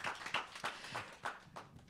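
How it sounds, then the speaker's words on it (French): Sparse, faint clapping from a small audience at a conference session on de-paving school yards, with scattered individual claps spread unevenly across a short moment and no talking. "je propose à nos participants de vous applaudir pour votre intervention et pour votre disponibilité"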